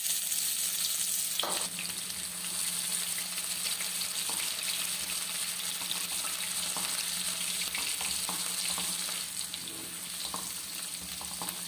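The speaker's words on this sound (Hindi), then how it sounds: "ऑयल जो है हमने गरम कर लिया। तो आपने ये प्याज है कटा हुआ हमारे पास, ये डाल देंगे" Chopped onion sizzles steadily in hot oil in a pan while onion hair oil is being cooked, a continuous close frying hiss with occasional soft clicks of stirring.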